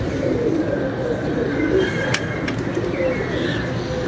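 Pigeons cooing on a rooftop, soft murmuring coos blended into a steady, fairly loud background of ambient noise with no clear talk.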